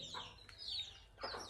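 Hens clucking as they eat grass, a few soft, close clucks in short bursts over quiet farmyard background.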